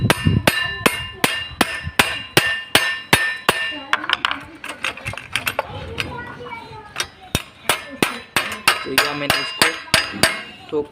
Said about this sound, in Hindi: फिर हम हथौड़ी की मदद से फिर से इसको ठोक लेंगे।